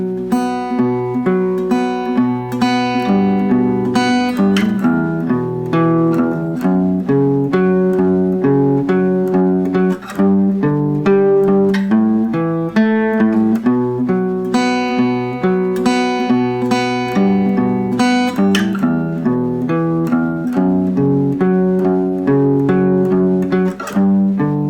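Guitar riff in standard tuning, strummed steadily at full volume for the whole stretch, with rhythmic picked chords and single notes repeating in a loop and no voice over it.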